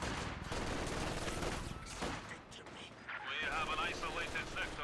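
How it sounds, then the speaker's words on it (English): Maxim machine gun fire in Company of Heroes 2 rattles in dense, rapid bursts amid a chaotic battle soundscape. The firing thins briefly midway, then returns alongside higher-pitched mechanical and whining battle noises. "Grenadiers here are getting hit by the Maxim and by the quad."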